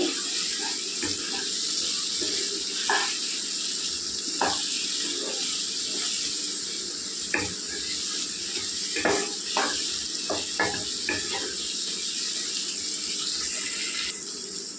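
Chili powder fries in oil, sizzling softly and steadily in a pan, broken by scattered scraping and stirring clicks throughout.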